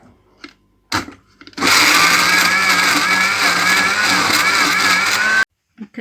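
An electric grinder blends home-remedy ingredients with oil. A few short bursts are followed by a loud, continuous high whir of about four seconds that cuts off sharply, then brief knocks.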